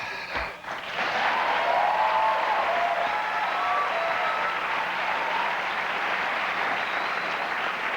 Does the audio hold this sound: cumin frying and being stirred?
no